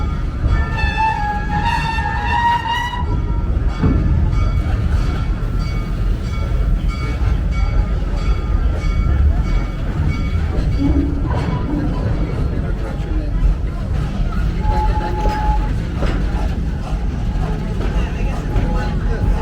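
The Serengeti Express amusement park train at Busch Gardens Tampa rolls steadily on its rails, with a continuous low rumble, some squealing tones and a recorded narrator talking over the ride.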